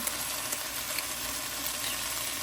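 Eggs go into a hot pan of sautéed bitter gourd (ampalaya), with a steady, close, crackling sizzle throughout and no talking.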